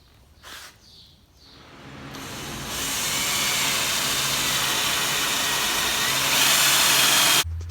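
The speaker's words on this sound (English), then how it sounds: "We'll get these holes drilled." A power drill bores holes to mount a deck chute on a Z930M zero-turn mower, a steady loud whine rising after a couple of seconds and holding, with softer handling noises at the start and an abrupt stop at the end.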